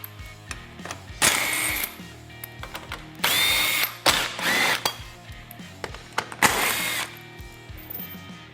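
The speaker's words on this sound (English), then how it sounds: "We're going to remove the following screws." A power driver removes T40 screws from the fascia of a Polaris RZR PRO XP, with several short whirring bursts and ratcheting clicks between pauses, close up and with no talking.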